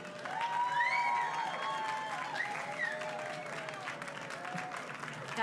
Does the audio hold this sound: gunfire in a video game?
no